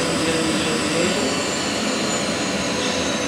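Fighter jet engine in an F-16 flight game, likely with the throttle pulled back: a steady, loud broadband roar with a low rumble, continuous throughout with no talk.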